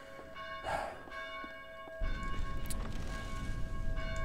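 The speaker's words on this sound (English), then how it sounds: "I just turned off the bell." A church bell rings in Dead Island, with ringing metallic tones over a steady rumble that gets louder partway through. No one speaks.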